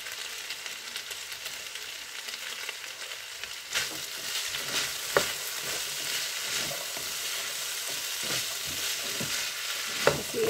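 Potatoes fry in a pan alongside sweet potato for vegetable lumpia, a steady close sizzle of hot oil with intermittent soft scrapes and taps as the pieces are stirred.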